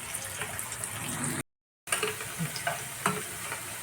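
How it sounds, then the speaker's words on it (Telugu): Onions fry in a pan for a chicken curry, giving a steady close sizzle broken by scraping stirs and a brief silent gap. "ఇది కొంచెం ఎర్రగడ్డలు ఎర్రగా అయ్యేట్టు పెట్టుకుంటాం."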